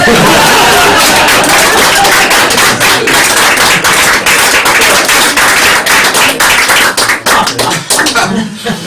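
A live audience at a card magic show applauds with loud, dense clapping close by that runs steadily and thins toward the end, with chatter mixed in.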